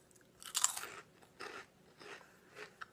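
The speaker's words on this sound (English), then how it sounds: "That is an extremely satisfying crunch." A crunchy Spanish snack from a snack box is bitten and chewed close up, giving several distinct crisp crunches spaced about a second apart.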